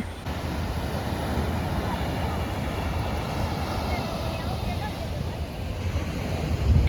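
Surf breaking against rocks on a broad beach near Someshwara temple at Ullal, Mangalore, a steady wash of water and wind rumble that holds level throughout, rising a little at the very end.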